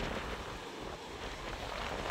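Strong typhoon wind on a coast, roaring as a loud continuous broadband rush with no break and no voices.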